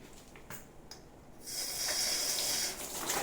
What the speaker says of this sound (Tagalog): Lagyan natin ng tubig para maglagay doon.